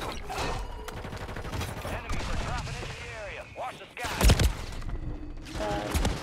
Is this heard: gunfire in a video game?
yes